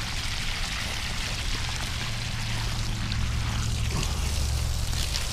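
A Tacklife GSUP1A sump pump pushes water out of an Intex pool, a steady close rush of pouring, gushing water with a low pump hum underneath, continuous throughout with no talking.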